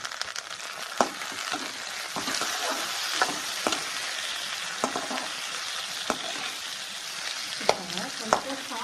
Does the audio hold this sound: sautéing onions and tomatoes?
yes